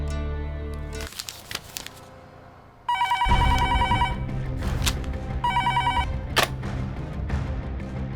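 A telephone rings in a tense action-movie scene, with repeated bright electronic ring bursts over a low background score and a few scattered clicks and knocks.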